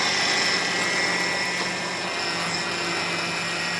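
A car's engine runs steadily at close range with a continuous whine from the power steering pump as the steering wheel is turned back and forth, with no talking.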